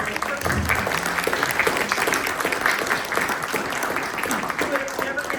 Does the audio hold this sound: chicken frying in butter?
no